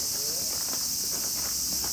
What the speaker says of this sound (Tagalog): Yung mga tunog na yan, semi siya, kuliglig.